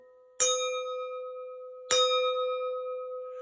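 A clean crystal wine glass struck twice, each strike ringing out in a long, sustained bright tone that slowly decays, with no voices over it.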